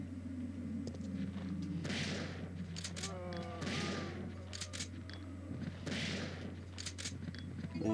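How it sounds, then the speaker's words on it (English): A shotgun fires in Resident Evil 3: three booming blasts roughly two seconds apart, heard over in-game ambience and effects. "I love the shotgun."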